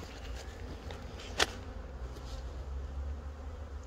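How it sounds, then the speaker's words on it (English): Honeybees buzz steadily around a hive in an apiary, a low continuous drone with one sharp tap or knock partway through. "A lot of bees there as well."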